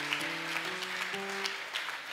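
A church congregation claps during a prayer service, with scattered, fairly faint claps over sustained held keyboard tones.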